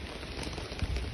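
Steady rain patters on surfaces during an outdoor walk, a soft, even hiss with small drop ticks, fairly quiet and with no talking.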